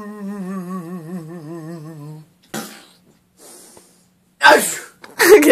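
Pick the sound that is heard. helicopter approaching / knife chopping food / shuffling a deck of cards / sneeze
sneeze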